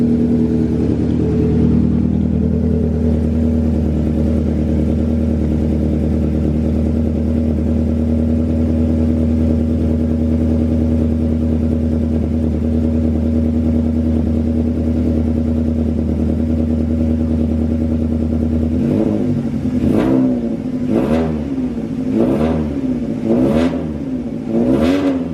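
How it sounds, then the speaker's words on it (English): A 1999 Hyundai Tiburon engine idles with an exhaust leak, giving a steady, raspy drone, then snaps through several sharp revs near the end, each one rising and falling quickly. "here we have the car on with the exhaust leak."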